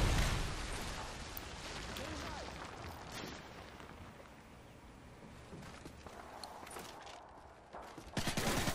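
Gunfire in a Search and Destroy match of a video game shooter, scattered shots and bursts of varying loudness spread across the clip, with a louder cluster near the end under busy game noise.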